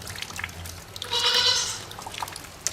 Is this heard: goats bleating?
yes